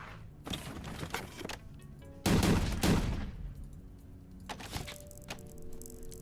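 A loud, booming cannon blast in a video game erupts midway, followed by a fading rumble, with scattered mechanical clatter and electronic game effects around it.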